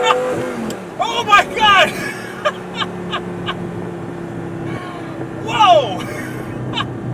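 A cheap Lamborghini accelerates hard at about quarter throttle on a straight road, its engine note climbing quickly and loud up close, while a voice exclaims in surprise over it.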